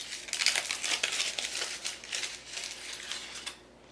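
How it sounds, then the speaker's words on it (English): A Tunnock's tea cake is unwrapped from its thin foil wrapper, giving close, bright crinkling and rustling for several seconds before it fades out. "Go ahead and unwrap it so you can see what it looks like."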